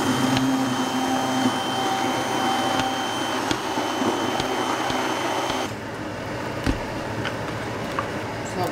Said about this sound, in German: dann wird püriert